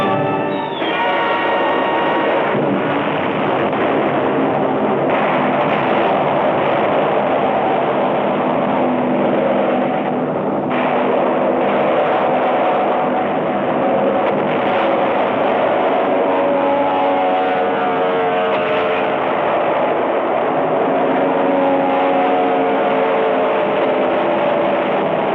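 Dense, continuous roar of WWII land-based fighter and bomber aircraft engines in battle over Leyte Gulf, loud and unbroken for the whole stretch with a droning tonal hum layered over broad noise, no voices.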